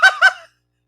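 A goose in a video game honks twice in quick succession, loud and close, then silence.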